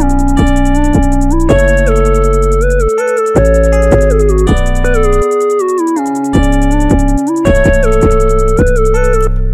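Booming 808 bass notes in a PluggnB beat, loud and sliding between pitches beneath a bright synth melody and fast ticking hi-hats, with short drop-outs between phrases and no voices.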